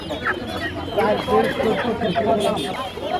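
Chickens cluck at Tongi poultry market, a busy live bird market with silkie and brahma fowl for sale. Nearby voices talk over the birds throughout.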